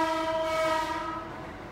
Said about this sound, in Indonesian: Sorry, kereta lagi lewat.